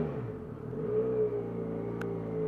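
Benelli Leoncino 500 Trail motorcycle engine and exhaust revving steadily up close, a continuous throaty drone that swells and eases slightly without a break.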